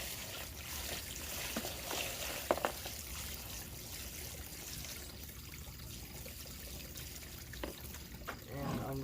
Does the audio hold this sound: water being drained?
yes